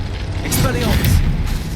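A single Expelliarmus spell blast in the game Hogwarts Legacy, a short, loud, booming whoosh with a ratcheting edge, heard up close against voice-like sounds.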